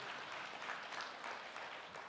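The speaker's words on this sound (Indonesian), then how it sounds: "Berikan tepuk tangan yang meriah" A church congregation gives a round of applause during a sermon, a steady wash of many hands clapping at a fairly faint, distant level with no break.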